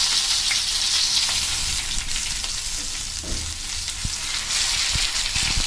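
Pink perch wrapped in banana leaf fries in hot oil, a dense, loud, continuous sizzle and crackle close up, with a few faint knocks in the pan and no voices.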